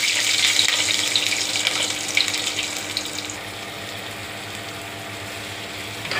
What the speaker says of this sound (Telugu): నేను దీంట్లో ఆవాలు జీలకర్ర వేసిన. ఇప్పుడు ఎల్లిపాయలు వేసుకుంటాం.